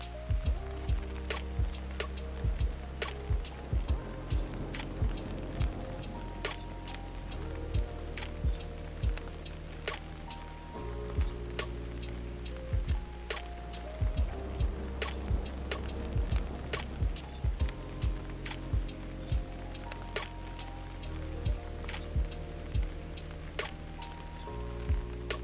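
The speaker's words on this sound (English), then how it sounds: "These black pipes at the top actually make it rain several times a day." A misting system in a gecko paludarium sprays artificial rain, producing a continuous patter of droplets on leaves and surfaces, with irregular sharper drips over a steady hiss and no talking.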